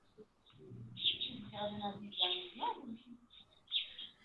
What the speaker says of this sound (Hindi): किसी ने अपना माइक ऑन किया हुआ है जिसकी वजह से जो है वो परिंदों के चहचहाने की आवाज आ रही है।